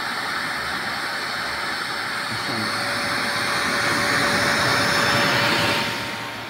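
A blower fan feeding a waste oil burner stove with a double impact chamber, giving a steady loud broadband roar with a faint constant whine, running alone throughout and easing slightly at the end.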